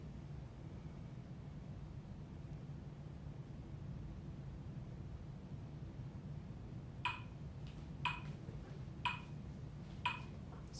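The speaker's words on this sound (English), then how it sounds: "So with the metronome going quite a bit slower, we'll play through this passage" Slow, steady metronome ticks, four or five evenly spaced clicks heard alone and fairly faint over a quiet room hiss, set at a reduced tempo for viola practice of a Mozart passage.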